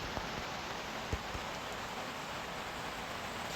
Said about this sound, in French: c'est pas la mer, hein. C'est la pluie.